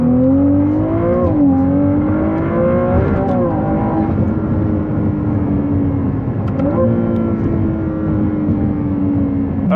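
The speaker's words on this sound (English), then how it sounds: "Let's test the brakes." A 2024 Ferrari 296 GTB on a test drive hums loudly and steadily from inside the cabin, its engine note dipping and rising as the car slows under braking, with no talking.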